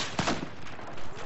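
A grenade explodes in Battlefield 4, a short sharp blast with a bright burst of noise, followed by a lower rumble of game sounds.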